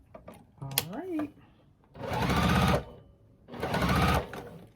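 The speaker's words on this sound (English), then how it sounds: "sew this one on" A sewing machine stitches a quilt block with a 1/4 inch seam in two loud bursts of motor whirring, each under a second long. A brief voice and some handling noise come before them.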